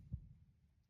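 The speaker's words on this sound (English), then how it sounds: "It's a heartbeat." Heartbeat sound in a music production, a single soft low thump early on, followed by a faint low hum and quiet fade.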